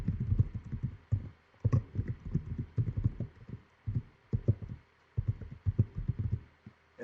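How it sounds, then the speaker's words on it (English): Loud computer keyboard clicks in rapid, irregular bursts of typing, close to the mic, separated by short pauses. "I'm sorry about the loud clicks of my keyboard."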